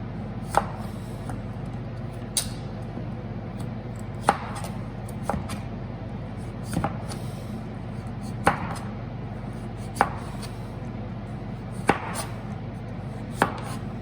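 A knife chops through tough pumpkin skin on a board, producing sharp, irregular thuds spaced a second or two apart over a steady low background hum.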